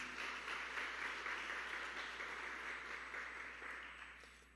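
A church congregation applauds the name of Jesus after a prayer, a soft, even wash of distant clapping that slowly fades.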